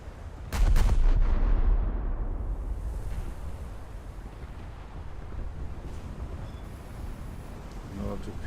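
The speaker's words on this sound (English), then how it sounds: "Another torpedo hit." Naval video game torpedo hit: a heavy booming blast near the start followed by a long rumbling, wash-like decay of water and debris, loud then fading, with faint clicks later.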